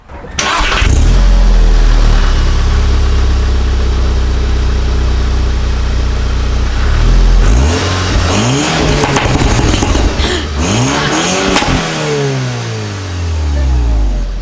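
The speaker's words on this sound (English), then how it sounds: "It's gonna hear the exhaust with the new tune on it and the intake." A Volkswagen GTI with a new intake, exhaust and tune starts with a loud burst, idles briefly, then revs repeatedly in rising and falling sweeps, close and loud, with quiet voices in the background.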